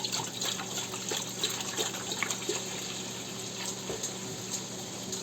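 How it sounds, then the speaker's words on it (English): Distilled white vinegar pours into a cooking pot for a pickle pepper sauce brine, a steady close liquid stream with light trickling texture that runs for several seconds without speech. "So we're going to go ahead and get ready to pour inside the pot."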